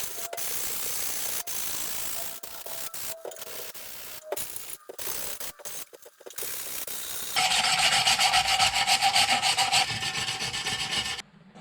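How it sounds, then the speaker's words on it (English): Wire brush scrubbing and rasping over metal heater box parts from a Toyota FJ40/HJ47 Land Cruiser, a close, steady scratching with brief pauses before turning louder and more continuous near the end. "we've scratched everything down by the plastic parts with the wire brush to really get in there and clean these metal bits"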